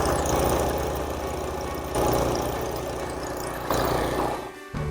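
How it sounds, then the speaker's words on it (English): A Ryan Junior sod cutter's engine runs steadily with the blade engaged, a close, even mechanical drone with rhythmic vibration that swells slightly a few times and dips near the end. "I'm engaging the blade. That unit's in full running motion."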